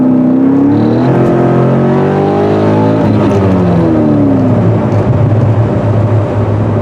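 A Cadillac CTS-V with an LS2 V8 and an aftermarket cold air intake pulls hard from about 2,500 RPM, its loud engine note climbing steadily in pitch as it accelerates, close and without talk.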